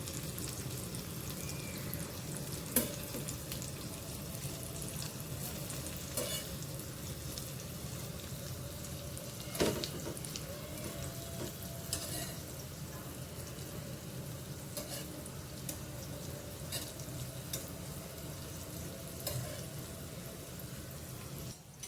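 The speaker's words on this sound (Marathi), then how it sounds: "सर्व असे चिमट्याने मी परतून घेतले आहेत आता त्याला मंद गॅसवर छान शिजायला देऊया" Rava-coated potato slices shallow frying in a pan over low gas, giving a steady close sizzle with occasional soft clicks as pieces are turned with tongs, no talking.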